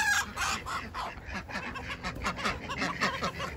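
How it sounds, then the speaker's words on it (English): A noisy flock of poultry on a homestead, ducks among them being let out of their pen, quacks and clucks continuously at close range, with overlapping calls and no pauses. "All right, let me let my duckies out."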